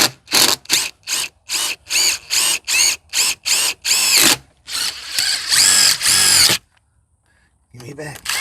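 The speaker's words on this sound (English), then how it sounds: "So we're going to do a 1/4 inch hole right next to this bolt." Power drill boring a 1/4 inch hole through golf cart metal near a bolt on a Club Car DS, in a series of short loud bursts followed by a longer run, then silence and a brief voice at the end.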